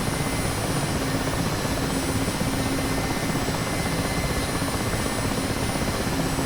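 An Mi-8 helicopter's engine and main rotor run at full throttle in a flight simulator during a cold start, a steady, loud, unbroken turbine roar and rotor drone with a thin high whine on top.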